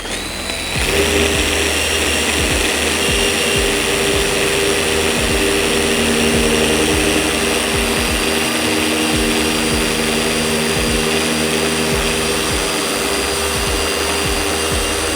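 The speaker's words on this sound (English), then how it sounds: "I then pump my speed up to around about 4 or 5, a medium light pressure over the head of the machine polisher." Machine polisher spinning at medium speed while cutting compound into car paint, a steady loud motor whine with a constant hum that runs unbroken for the whole stretch after a brief quiet start.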